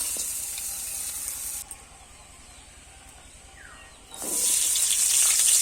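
Prawns fry in oil with a soft sizzle that dips for a few seconds, then surges into a loud, bright hiss of spattering oil near the end.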